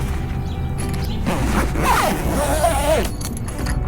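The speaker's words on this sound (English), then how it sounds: "Bag zippers are nice and thick." A thick zipper on the cover bag of a Blackstone on-the-go griddle with side burner is pulled open in one drawn-out, raspy run over a background hum.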